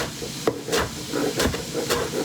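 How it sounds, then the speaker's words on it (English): Chickpeas sizzling in a hot pan, a steady close hiss of frying with faint crackles and a few brief sharper clicks, no talking. "I don't know if you can hear the chickpeas, but they are sizzling"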